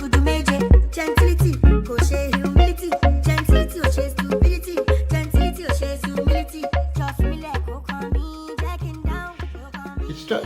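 A music track reissued at a faster tempo than its usual speed, with punchy, driving beats and dense instrumentation pulsing steadily and loudly throughout, no voices talking over it.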